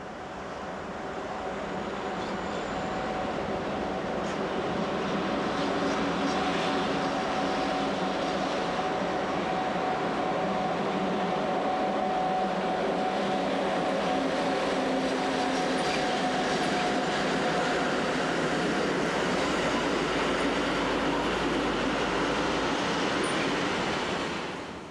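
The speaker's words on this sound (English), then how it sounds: "This train, hauled by a Class 1044 electric, is just arriving at the southern platforms on the two-hourly intercity service from Salzburg via Villach." An intercity train hauled by an Austrian Class 1044 electric locomotive arrives at a station platform, giving a steady, loud rolling rumble and rail noise that continues for the whole stretch, with no voices.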